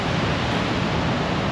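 Water rushes loud and unbroken through a fish ladder at a weir on the Murray River, a dense close-up roar like a small waterfall.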